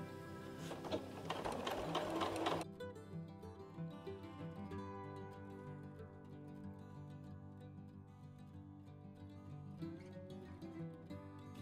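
A sewing machine stitches a fabric face mask in a short, loud, fast run, then gives way to quieter mechanical ticking and handling noises, heard up close.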